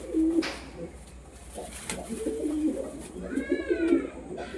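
Lotan pigeons in a loft coo in repeated low throaty phrases at moderate distance, with a few brief higher calls and faint background stirring.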